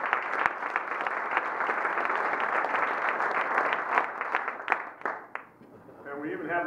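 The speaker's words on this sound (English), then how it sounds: "let's give him a great round of applause" Applause from an audience at a Rotary club meeting, a dense steady wash of clapping that fades out near the end as a voice begins to speak.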